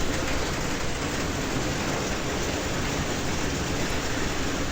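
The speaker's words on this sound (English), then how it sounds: "we have proper train sounds, at least once" Train cars roll over rails in Trainz Railroad Simulator 2019 on a Central Europe route, making a steady, dense, broadband rumble with a faint clickety-clack texture that holds at even loudness throughout, with no talking.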